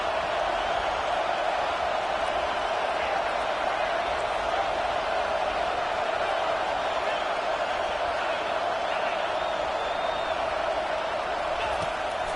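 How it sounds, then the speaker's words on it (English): Steady, dense stadium crowd roar from a College Football 25 video game matchup, Oklahoma against Georgia, on third down, holding loud and continuous throughout under a play-by-play voice. "Decibels rising as the crowd gets behind this defense on 3rd down."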